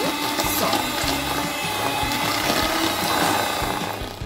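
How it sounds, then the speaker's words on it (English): An electric beater whips butter and powdered sugar for an eggless strawberry mawa cake, a loud, steady motor whir with a rattling churn that runs unbroken throughout, with no talk. "And now using a beater, so we are going to beat this until it becomes nice and soft."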